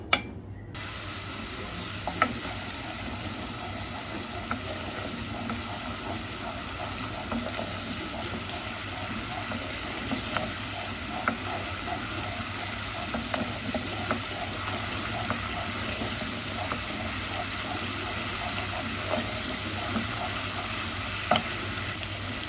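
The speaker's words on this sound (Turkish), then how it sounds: "Salçam güzelce kızardı." Tomato paste sizzles and fries in hot oil while a spoon scrapes and stirs now and then, a steady close crackle throughout.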